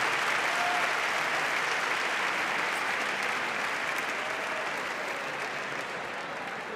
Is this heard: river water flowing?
no